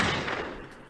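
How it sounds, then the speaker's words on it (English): A single gunshot sound effect hits hard and booms, then decays over under a second. "get him one of those gunshots"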